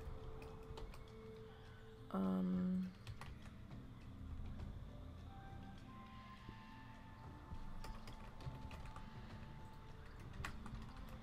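Someone types on a computer keyboard during World of Warcraft play, a quiet run of light taps scattered over the stretch, with a brief louder tone partway through and soft game sounds behind.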